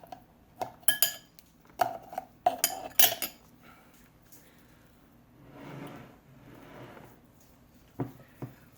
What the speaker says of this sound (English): Going to get rid of the spoon.